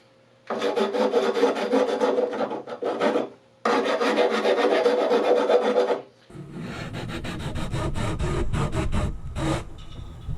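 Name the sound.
filing and sanding cured mortar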